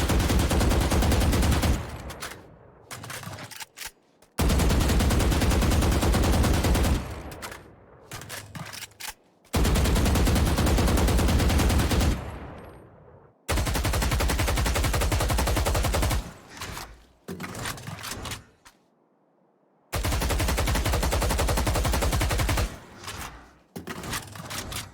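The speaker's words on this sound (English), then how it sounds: "That is crouching after your first 3 bullets are fired out of your mag." Rapid rifle gunfire from the video game Valorant, repeated loud bursts of sustained automatic fire separated by short silent gaps, no talking.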